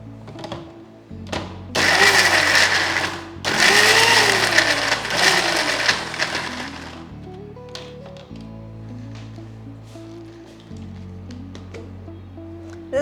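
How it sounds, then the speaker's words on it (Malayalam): A kitchen grinder crushes a coarse spice paste with oil and vinegar for beef chops, running in loud whirring bursts of a few seconds each with short pauses between them, then quieter clatter near the end. "ഇതെല്ലാം കൂടെ നന്നായിട്ട് അരച്ചെടുക്കാം. ഒത്തിരി അരയണ്ട, ഒന്ന് നന്നായിട്ട് ക്രഷ് ചെയ്തെടുക്കാം."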